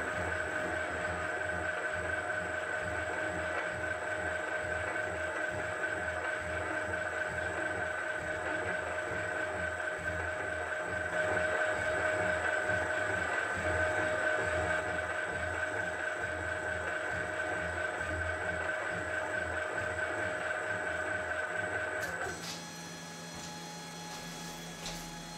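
A surface grinder feeds by hand about 0.02 mm per stroke as it grinds a grinding wheel adaptor, making a steady, continuous machine whine with a rapid rattling rhythm that drops to a quieter hum near the end.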